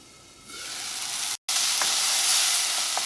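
Tomato masala sizzles in a covered pan with a steady, bright hiss, interrupted once by a brief silent gap. A few soft scraping taps from stirring come through near the end.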